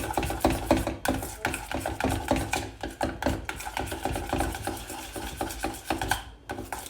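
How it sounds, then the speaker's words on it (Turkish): Thick strained yogurt stirred in a bowl with a spoon, a steady run of close, rhythmic scraping and clinking strokes against the bowl, loud and continuous with no talk. "Öncelikle süzme yoğurdu biraz kabımızda açıyoruz."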